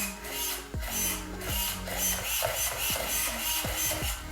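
A small RC car servo motor, resting on a pit mat, buzzes and whines in quick back-and-forth bursts, with several sharp ticking moves, fairly quiet and close, no voices.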